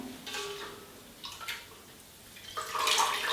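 Wool being rinsed in clean water after bean dyeing gives brief splashes and trickles, a short slosh early on and a louder pour near the end, fairly close and quiet.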